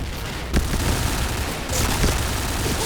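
An old gun fired in a Thai Point Blank online shooter game, dense overlapping gunfire blasts in rapid succession, loud and continuous with heavy low-end booms.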